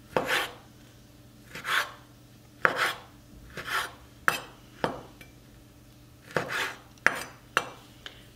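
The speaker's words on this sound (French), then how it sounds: "j'ai choisi des tomates très mûres que je vais couper pour ma part comme ceci" A knife cuts through ripe tomatoes on a board, about a dozen crisp separate strokes in an irregular rhythm, close and fairly quiet over a low background hum.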